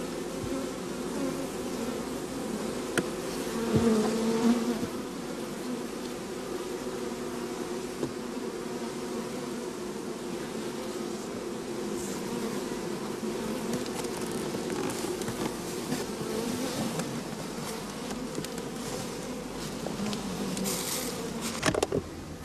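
Honeybees hum in a dense, continuous drone at an open hive during varroa control, when capped drone frames are cut out. The buzzing stays steady and close throughout, with a few faint knocks and no talking.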